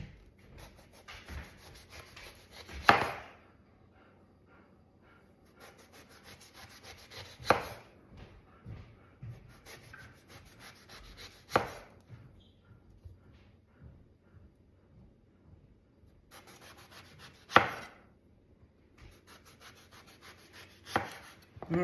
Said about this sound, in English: Okay, here we go. 1/2-inch slices.